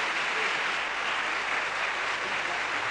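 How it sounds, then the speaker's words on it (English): A live crowd applauds as blues guitarist Otis Rush is brought on stage, a steady, full roar of clapping with no speech, lasting about three seconds. "Let's bring Otis Rush on with a round of applause"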